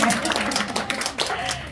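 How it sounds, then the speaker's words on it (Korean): Audience applause fills a book launch celebration, a dense, steady patter of many hands clapping with voices mixed in throughout. "큰 박수 부탁합니다"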